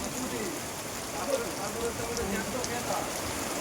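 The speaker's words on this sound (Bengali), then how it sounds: "প্রায় 1 ঘন্টা ধরে বৃষ্টি হচ্ছে আমাদের এখানে পশ্চিমবাংলার মধ্যে" Steady heavy rain in West Bengal pours down outside a house in a continuous, even hiss, with a voice talking over it.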